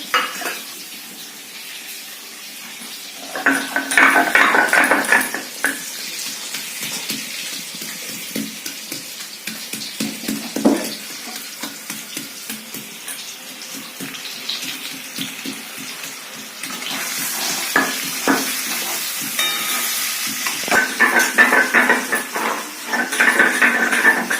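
Potatoes fry in a pan with a steady sizzling hiss that swells and fades as they are stirred, close up and with no talking.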